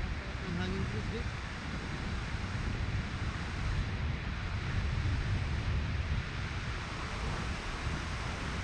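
Strong wind buffets the microphone on a bridge near a waterfall, a steady roaring rush that holds for the whole stretch, with rushing water blended underneath.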